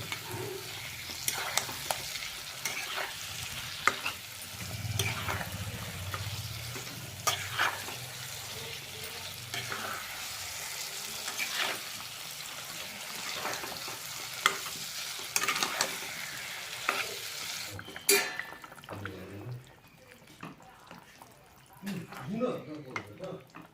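Ridge gourd and potato sautéing in a pan, with a steady background sizzle broken by repeated scraping and clinking strokes of a spatula stirring the vegetables, close and moderately loud.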